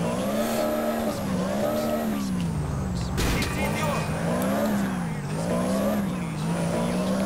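A speeding car in the video game GTA IV roars loudly and steadily, its engine pitch rising and falling with gear changes and a brief harsh burst midway, while someone talks excitedly over it.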